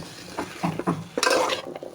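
Bottle gourd with shrimp and spices is stirred in a pan, with a utensil scraping and clinking against the metal in quick uneven strokes and a light sizzle underneath, close by.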